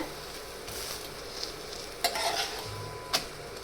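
Vegetable pudla, a Gujarati gram-flour pancake, cooking in a pan: a soft, continuous sizzle with occasional light scraping and clinks of a utensil against the pan.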